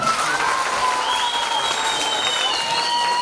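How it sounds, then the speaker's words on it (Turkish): Children and villagers in a rural neighbourhood gathering applaud together, a continuous dense patter of clapping with a few shouts and voices mixed in, close and steady for the whole stretch. "Alkışlayalım mı?"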